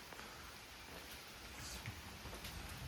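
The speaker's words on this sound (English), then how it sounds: "It's pouring rain" Pouring rain falls outdoors during a house move with a truck and trailer, making a steady, dense broadband hiss that stays fairly quiet and even for the whole stretch.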